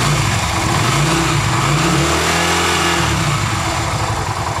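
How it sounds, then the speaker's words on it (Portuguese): A Yamaha XV 250 Virago motorcycle engine is revved up from idle. The pitch rises and holds through a loud, close mechanical drone, then falls back, with no talk. "Vou dar uma aceleradinha pra gente ver quanto que vai."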